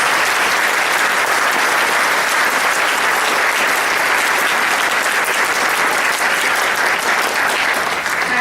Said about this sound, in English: please join us in a round of applause for these wonderful musicians